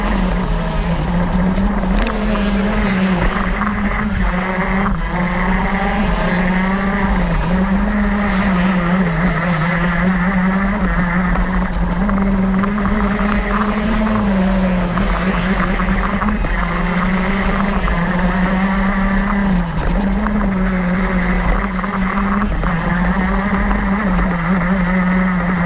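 Racing karts in a heat race at the Supernats karting event make a steady, loud, buzzing engine drone that rises and falls continuously as they pass, with no talking.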